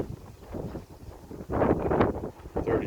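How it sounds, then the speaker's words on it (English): Strong wind gusts across a cattle farm, buffeting the microphone in uneven, rumbling bursts that swell and fade over a few seconds. "The wind is really getting up."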